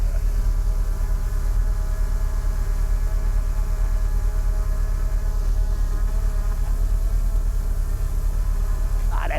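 A DJI Mini 4 Pro drone hovers close by outdoors, giving a steady, high, insect-like propeller whine with layered buzzing tones that holds unbroken throughout.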